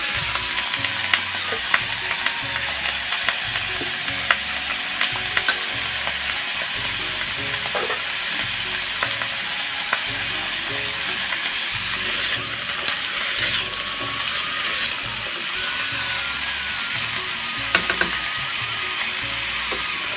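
Pumpkin stalks and chopped green chillies fry steadily in a pan, a loud continuous sizzle with scraping stir strokes and occasional pops, no talking.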